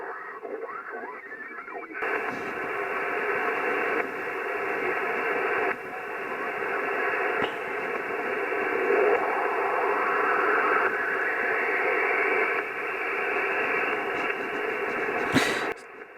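Amateur radio receiver noise on the 40-metre band through a Yaesu FT991A with an Ampro-40 mobile antenna: steady, fairly low hiss and static that starts after a brief quieter lead-in and holds at an even level, with faint tones and a short burst near the end.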